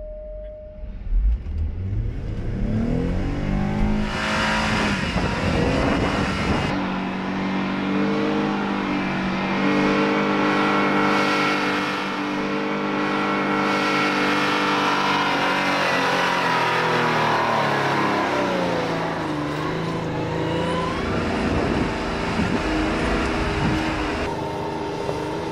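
An off-road vehicle engine climbs a trail in third gear, a loud sustained revving drone that rises in pitch and holds steady under load, then eases off near the end.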